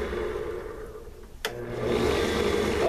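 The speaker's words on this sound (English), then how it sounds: "I changed drums on this sander here now so I can get inside this little circle here" A small drum sander whirs steadily while shaping a knife handle, a continuous close grinding hum that dips briefly and then picks back up.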